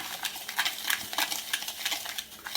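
Homemade dry rub of paprika and crushed red pepper being stirred in a bowl, a steady close scraping and rustling of the spices with no talking.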